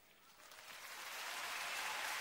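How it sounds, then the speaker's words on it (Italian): A large audience at a Beppe Grillo rally in Mantova in 2008 gives a big applause. It starts softly, swells into a broad, dense wash of clapping and stays full. It is heard from a distance and is fairly faint. "Questo è un applauso da finale, è un grande applauso che fa bene al cuore"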